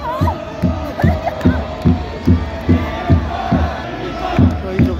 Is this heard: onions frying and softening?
no